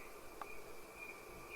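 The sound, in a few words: cricket chirping sound effect in audiobook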